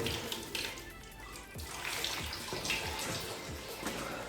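Water running from a tap in an abandoned building, a continuous rushing splash with some uneven gurgling, fairly faint and close, no talking.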